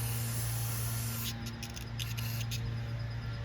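Aerosol carburetor cleaner is sprayed into the carburetor of an Ariens 26-inch dual-stage snowblower, giving a steady close hiss broken by several short sputtering bursts over a constant low engine-like hum.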